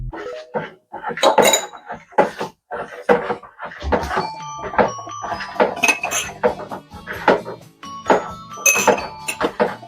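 A spoon stirring honey into sorrel drink in a pot, with repeated clinks and knocks against the metal in an uneven rhythm, close and fairly loud.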